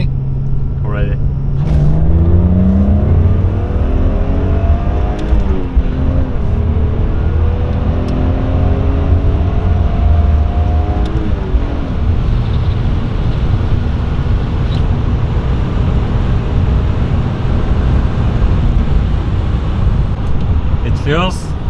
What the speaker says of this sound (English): we're going to try one pull to see how it pulls. Second gear, and let's see what it has